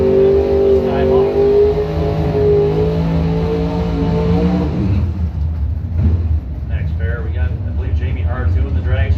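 Buick Skylark and Skyhawk drag racing cars at a strip, engines roaring loudly and rising through the revs before the sound drops away to a lower rumble, with an announcer talking over it.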